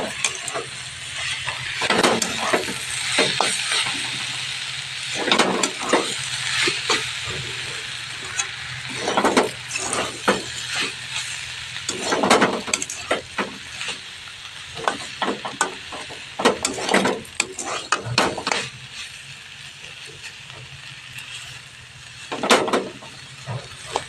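Saag leafy greens fry in a kadai over low gas, giving a soft, steady sizzle broken by repeated short scraping bursts as they are stirred, fairly close and moderately quiet.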